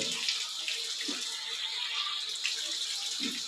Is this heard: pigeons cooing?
no